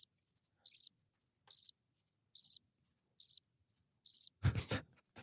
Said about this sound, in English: That's the longest cricket sound ever.